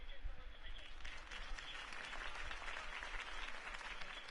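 A video game crowd applauds steadily in dense clapping, heard at a slight distance, with no voices over it.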